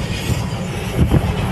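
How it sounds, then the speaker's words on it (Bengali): A freight train rumbling across the Farakka bridge, a continuous low heavy roll with faint rhythmic wheel clatter, fairly loud and steady, no talk. "ট্রেন যাচ্ছে, মাল গাড়ি যাচ্ছে।"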